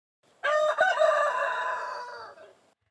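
A rooster crows once, a loud, clear, drawn-out call lasting about two seconds at a farm chicken coop, alone against a quiet background.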